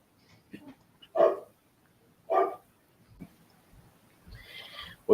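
Dogs barking in short, separate bursts, a couple of loud barks with quieter yips between them, fairly close by.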